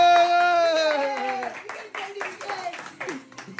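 People clap by hand while watching an India cricket match at home. Quick, sharp claps fall in an uneven rhythm under excited talking and a drawn-out voiced tone at the start.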